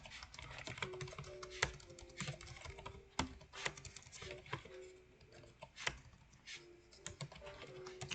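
Fingers typing on a laptop's built-in keyboard, a steady run of close, soft key clicks with irregular rhythm and occasional louder taps, quiet and without speech.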